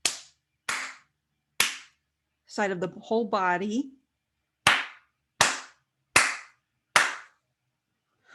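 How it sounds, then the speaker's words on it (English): Single sharp hand claps ring out one at a time in an uneven rhythm, close and crisp in a quiet room, paused once while a voice speaks briefly, then resume in a steady series. "I'm going to do some clapping, clearing on that side of the head"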